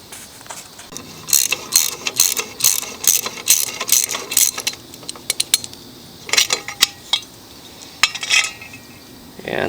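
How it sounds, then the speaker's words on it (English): A ratchet wrench clicks away as it loosens the muffler bolts on a Yard Machines lawn mower, making rapid bursts of light metallic ticking up close, separated by short pauses. "Next step, let's get this muffler off. 2 bolts,"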